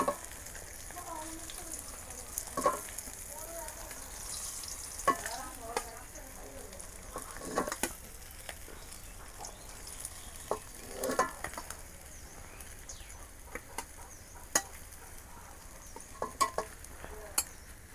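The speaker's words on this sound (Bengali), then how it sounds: "মাছ ভাজা নিলাম, লাল লাল করে দেন" Koi fish fry in hot oil in a pan, a soft continuous sizzle with scattered sharp pops and stirring clinks throughout, moderately quiet.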